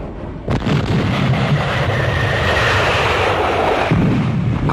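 Bombing from the 1973 Chile coup in archival footage, a sustained loud roar of explosions and rumbling blasts, steady and dense for several seconds, with no talk.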